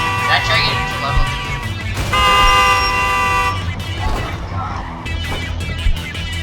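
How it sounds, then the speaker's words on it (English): Truck horns blare in the Clustertruck video game, with a long sustained honk and several shorter toots amid engine and crash noise, while a person talks and exclaims over the top. "Stop with the honking."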